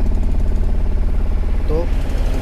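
A Mahindra Supro truck engine runs steadily at idle with an even, rapid pulsing throb, loud and close, while someone talks over it.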